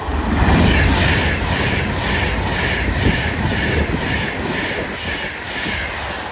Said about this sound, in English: Soon to pass through now will be another Avanti West Coast service going from London Euston to Manchester Piccadilly